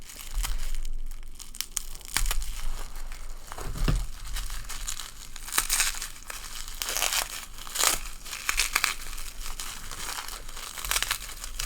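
A package is cut open by hand, its plastic wrapping crinkling and tearing in irregular bursts over several seconds, close and moderately loud, with no one speaking.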